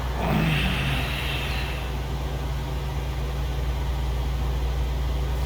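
Mooney 232 light aircraft in Microsoft Flight Simulator VR, ready for takeoff: a steady droning piston engine hum with a strong low tone, holding even and continuous throughout, with no talk.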